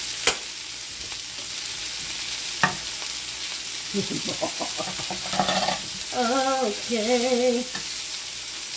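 Brussels sprouts sizzle and crackle fast in a hot, smoking pan, a steady broadband frying hiss with a few sharp clicks from stirring; brief tonal sounds surface near the end, and one short spoken word is heard.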